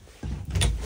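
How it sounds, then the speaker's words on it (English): A motorhome's telescoping ladder slides out in one short scraping, sliding rush that grows louder toward the end, close by. "There goes your telescoping ladder."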